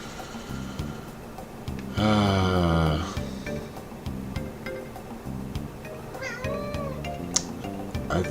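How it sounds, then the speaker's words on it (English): A cat meows loudly and close by in a room while game music plays, with a long drawn-out call early on and a shorter, fainter mew later. "Oh, that's the cat."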